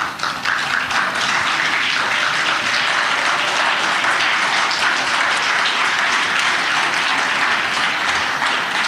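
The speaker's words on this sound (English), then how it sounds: "let us stand up and really applaud" A standing audience at a conference session gives loud, sustained applause, a dense wash of clapping that holds steady throughout.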